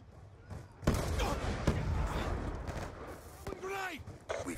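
Gunfire and a frag grenade blast from the Black Ops 2 video game, loud sharp bangs and a dense burst of shooting that starts about a second in and continues under a crowded, noisy mix with a few whooshing effects near the end.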